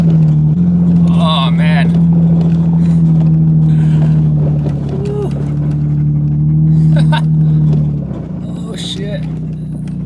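A Toyota FJ Cruiser climbs a steep off-road trail in Michigan, its engine holding a steady, loud drone with a dip and rise partway through, while the occupants exclaim and talk over it.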